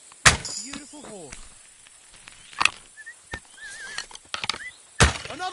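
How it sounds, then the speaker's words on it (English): In the Kingdom Come Deliverance 2 video game, a horse gives a couple of close neighs and whinnies amid sharp impact thuds and scattered hoof clops, with a voice briefly speaking nearby. "Beautiful horse."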